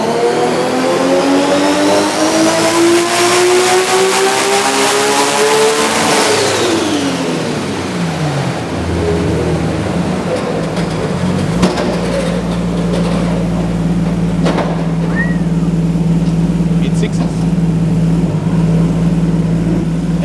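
A Nissan R32 GT-R race engine in a dry carbon roll racing build revs hard and loud up to the limiter, pitch climbing then dropping, followed by a steady rough idle at close range with no talk.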